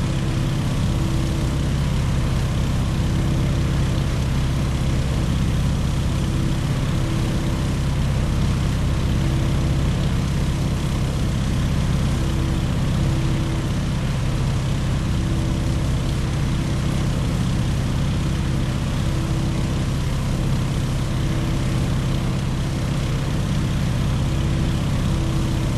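A tail-dragger propeller aircraft in Microsoft Flight lining up to land, with a loud, steady engine drone and propeller hum that holds constant throughout, no voices.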